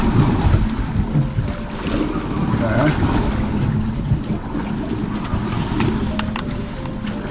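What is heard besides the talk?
fishing boat hit by big ocean waves off Alaska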